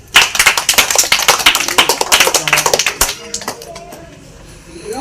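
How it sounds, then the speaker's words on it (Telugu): Students in a Telugu grammar class clap together in a burst of quick, loud, irregular claps for about three seconds, which then taper off into quieter scattered taps and room noise. "Very good. క్లాప్స్ కొట్టండి."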